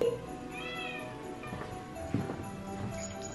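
A pet cat meows softly indoors, a couple of short, fairly faint mews in a quiet room.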